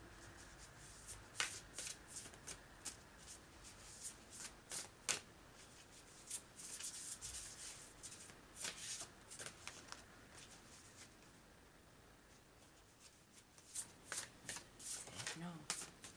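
Tarot cards shuffled by hand in repeated bursts of crisp riffling and flicking, close and fairly quiet, with pauses between rounds and a voice talking at times.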